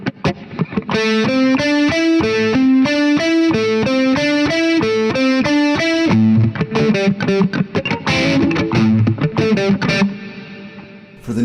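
A distorted electric guitar lick played at two eighth notes per beat, a steady run of loud, saturated picked notes with a few accented chords near the end, alone.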